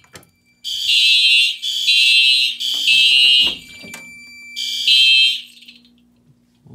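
Simplex TrueAlert and SpectrAlert Advance fire alarms sounding in a home system test, loud piercing tones in a repeated pulsing pattern of long blasts with brief gaps, then falling silent.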